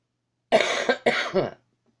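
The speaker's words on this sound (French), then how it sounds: "vous allez peut-être m'entendre tousser dans la vidéo" Two harsh, rasping coughs in quick succession, close and loud, followed by silence.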